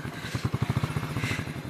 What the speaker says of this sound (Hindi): ये हमारी बाइक जो है रुक गई इधर।